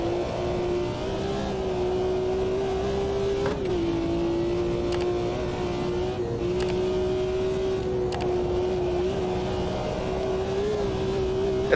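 A BMW M1 Procar race car held at full throttle on the Nordschleife gives a steady, droning engine howl from onboard. The pitch stays nearly constant, with small dips at the gear changes.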